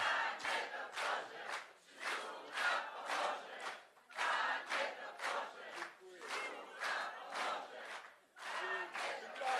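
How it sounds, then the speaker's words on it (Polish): A crowd chants a new slogan at a presidential candidate's campaign rally in Przysucha, Poland. Rhythmic shouted bursts repeat in regular waves with short pauses between them, heard from a moderate distance and fairly faint. "No i mamy nowe hasło, nowy okrzyk."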